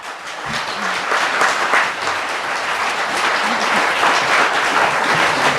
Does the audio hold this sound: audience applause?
yes